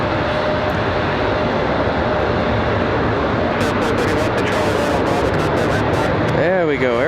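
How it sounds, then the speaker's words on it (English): An Aeromexico jet uses its thrust reversers after landing at Raleigh-Durham in snow, producing a steady, loud roar heard from a distance, with people talking over it. "Aeromexico putting the reversers on"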